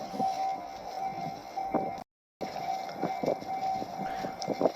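A train in Japan rumbles past with a steady rolling clatter and a sustained tonal whine, heard from nearby at moderate loudness, with a brief cut in the middle.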